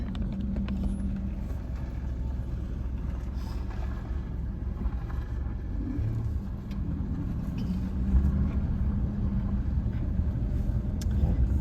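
Cars pass close by on a road, a steady low engine and tyre rumble that swells slightly now and then without clear breaks between vehicles.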